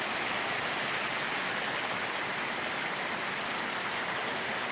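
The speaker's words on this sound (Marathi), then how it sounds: "कालच्या दिवस नव्हता पाऊस आज चालू झालेला आहे" Steady rain falling outdoors at a Balumama shrine, a dense continuous hiss with no breaks, fairly loud and even throughout with no voices.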